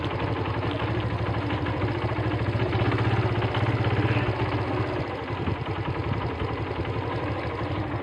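A motorcycle engine runs steadily while riding, a continuous mid-low hum with slight fluctuations, close and moderately loud with no talk over it.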